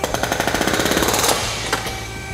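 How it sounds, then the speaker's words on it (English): A Cat 300.9D hydraulic hammer batters blocks of wood in a fast, steady burst of loud, close, pounding strikes, then cuts off and leaves a lingering mechanical hum. "you'll hear the force of the hammer as I go ahead and load it up"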